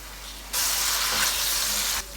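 Water mixed with chicken powder is poured into chicken frying in a pan for chicken macaroni, setting off a loud, steady sizzle that lasts about a second and a half before cutting off.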